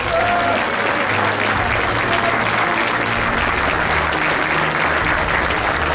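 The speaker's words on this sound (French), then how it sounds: "vous pouvez vous applaudir" A crowd at a regional gathering claps together in a loud, sustained burst of dense applause lasting throughout, with no pauses and no clear voices over it.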